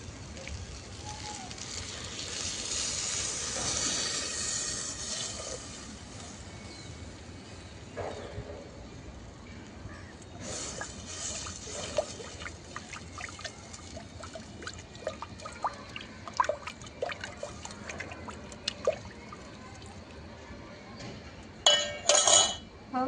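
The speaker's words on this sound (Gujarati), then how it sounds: "બસ હવે આપણે છાશ ઉમેરી દઈશું" Buttermilk is poured into a cooking pot for green pigeon pea kadhi, giving a soft, steady pouring hiss early on, followed by scattered clinks and taps of utensils against the pot.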